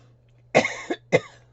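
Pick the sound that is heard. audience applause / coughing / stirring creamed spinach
coughing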